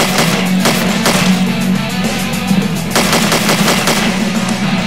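Loud, continuous gunfire from the horror video game Slendytubbies: Growing Tension, a rapid stream of shots in a red room survival mode, dense and unbroken, with no talking.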